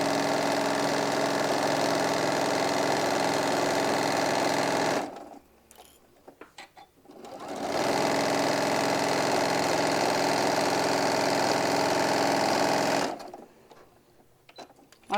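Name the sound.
sewing machine chain piecing fabric pieces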